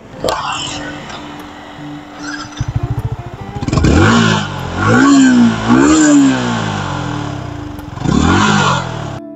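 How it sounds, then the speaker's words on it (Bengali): A Yamaha R15M Carbon Edition motorcycle engine idles, then revs up in several rising bursts, its exhaust roaring close by, with a voice speaking briefly near the start. "তো এখন যদি এক্সস্ট সাউন্ড আপনাদের একটু শোনাই"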